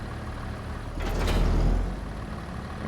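A tractor engine in the video game Farming Simulator 25: a steady, low mechanical drone with a rushing surge that swells and fades in the middle of the clip.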